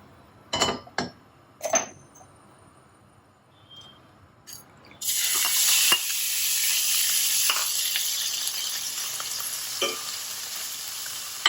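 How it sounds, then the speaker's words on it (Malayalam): Prawns hit hot olive oil in a pan with a few clinks and taps first, then a sudden loud, steady sizzle that carries on, close by, with occasional stirring scrapes. "ഒരു പാൻ വെച്ച് ചൂടാകുമ്പോൾ കുറച്ച് ഒലിവ് ഓയിൽ ഒഴിച്ചിട്ട് പ്രോൺസ് ഒന്ന് സോട്ട് ചെയ്തെടുക്കാം"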